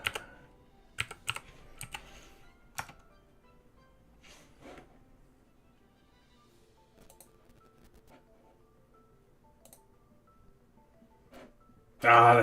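Someone enters a code on a computer keyboard: a few sharp keystrokes early on, then scattered lighter taps separated by long quiet gaps, ending in a sudden loud burst of noise.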